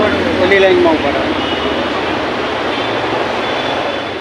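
A Mumbai metro train pulls in at a station platform, a loud steady rumble with a whining tone and a brief squeal, while voices murmur nearby.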